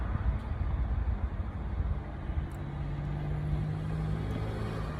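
Camaro with a cam-only setup and a 4x carburetor arrangement pulling hard in fourth gear, a steady loud engine drone with rising harmonic tone under continuous road and wind rumble, no talking.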